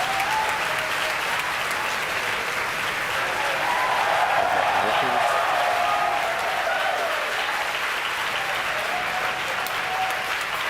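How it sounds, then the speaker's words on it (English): A crowd at SpaceX headquarters cheers and applauds after stage separation during a Starlink launch, a loud, continuous wall of clapping and whoops with scattered shouted voices mixed in. "you can hear it through the cheers of the crowd here at SpaceX headquarters"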